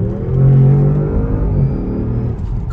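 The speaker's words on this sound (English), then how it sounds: "You heard the supercharger." A supercharged Mopar RT engine revs with a deep, steady roar that swells and then holds, close and loud, with no talk over it.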